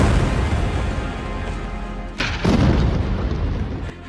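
Explosions from Israeli airstrikes on Beirut, Lebanon: a continuous heavy low rumble, broken by a sharp broadband blast around the midpoint and a second thud near the end, loud and sustained with no voices.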